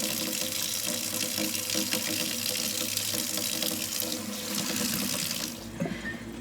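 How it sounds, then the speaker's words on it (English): Warm tap water runs steadily into a sink for cleaning, a continuous close splashing stream that cuts off near the end, with no talking. "Now I'm going to try to use warm water."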